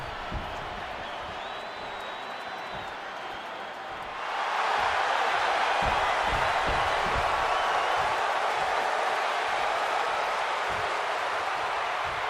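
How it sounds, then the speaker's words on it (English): A capacity arena crowd in the WWE 2K26 wrestling game, heard as a steady hum that suddenly surges into a loud, sustained roar of cheering and noise lasting several seconds. "And this capacity crowd just exploded."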